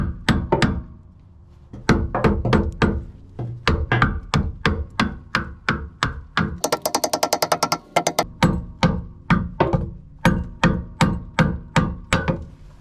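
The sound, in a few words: tapping on a stuck trailer part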